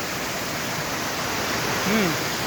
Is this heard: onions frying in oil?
no